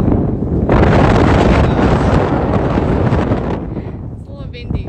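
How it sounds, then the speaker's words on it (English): Wind buffets the microphone outdoors on an island in Mexico, a loud, steady, rushing roar that eases off near the end, with faint voices in the background. "It's a little windy"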